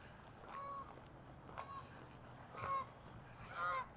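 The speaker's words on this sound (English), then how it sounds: "And the geese going overhead." Geese honk while flying overhead on a bright autumn morning in South Wascana Centre, Regina, giving four separate calls at a moderate distance over faint outdoor background noise.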